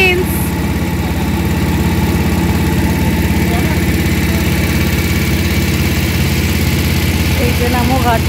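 A boat engine runs steadily during a Ganges boat ride past the ghats of Varanasi, a loud, constant low throbbing drone with no pauses.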